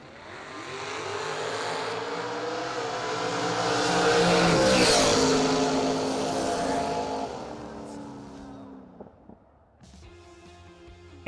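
Drag race cars roar down the strip at a Christmas bash event, a loud sustained engine blast that swells to a peak and fades away, then a brief lull with scattered clicks, no talk over it.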